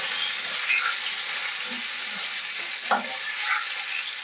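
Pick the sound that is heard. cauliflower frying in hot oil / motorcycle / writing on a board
cauliflower frying in hot oil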